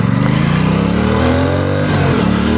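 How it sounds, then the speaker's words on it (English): Aprilia Tuono 457 motorcycle with a 270-degree crank twin revving steadily up and down under way, a loud, close, continuous engine drone with rising pitch sweeps. "Oh, I love the sound of that 270-degree crank."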